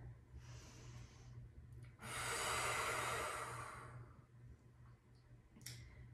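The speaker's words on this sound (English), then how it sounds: "we're just gonna sit here for just one more big deep breath" A slow, deep breath during a beginner runner's yoga cooldown: a soft inhale, then a long, loud exhale lasting about two seconds, followed by a short breath near the end, close up and alone over a low steady hum.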